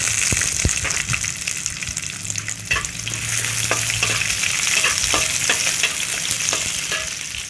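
Onions fry in hot tempering oil for an okra dish, a loud, close crackling sizzle with repeated spatula scrapes and taps against the pan throughout.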